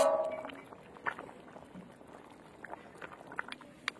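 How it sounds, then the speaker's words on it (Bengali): Bengali fish curry broth with bhetki fish, cauliflower, potato and lentil dumplings simmering in a pan, soft, faint bubbling and small pops throughout after a brief clatter at the start. "এই যে ঝোলে কিন্তু একদম জাল উঠে গেছে"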